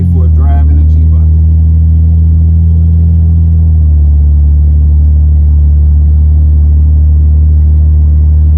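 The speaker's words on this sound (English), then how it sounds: "Nice day for a drive in a G-body." A G-body car's engine drones with a steady low rumble while driving, its pitch dropping slightly partway through and then holding an even, close, continuous hum.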